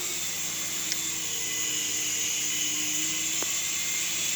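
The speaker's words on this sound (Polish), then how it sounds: "Ogólnie to dwa śmigiełka pracują" Two main rotors on a toy helicopter whir in a steady, even drone close by, with a faint brief click partway through and no talking.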